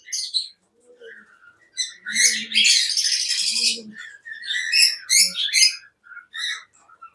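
Cockatiels kept for breeding chirp and squawk in bright, sharp bursts close by, some calls overlapping into a dense flurry before trailing off into scattered single tweets, with no speech.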